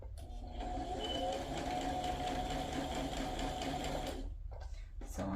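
A sewing machine stitching small fabric sentiments onto handmade journal tags, running steadily and close for about four seconds with a rapid even whir, then stopping; a few quiet handling sounds follow.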